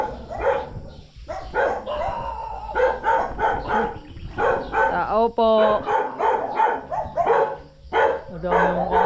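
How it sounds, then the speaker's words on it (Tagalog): Many dogs bark and yip in repeated bursts close by at a Filipino home, with occasional whimpers, while people talk and greet each other over them. "Ang daming aso din eh."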